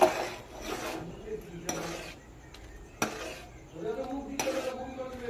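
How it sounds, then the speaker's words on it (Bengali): A spoon scrapes and knocks around a pan as milk with melted caramel is stirred, several rhythmic strokes with clinks, close and moderately quiet. "তো দেখুন এইভাবে নেড়ে নিতে হবে।"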